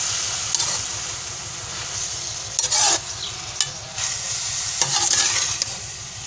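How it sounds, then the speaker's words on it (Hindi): Methi aloo with garlic being stirred in a frying pan, a steady low sizzle with a few sharper scraping strokes of the spoon against the pan, close and alone. "अब इसको हम अच्छे से मिक्स कर लेंगे"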